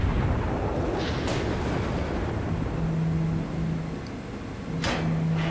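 A battleship's main guns fire and score a citadel hit in a naval combat game, booming with heavy rumbling blasts over a constant engine-and-water drone, with sharp cracks near the middle and the end.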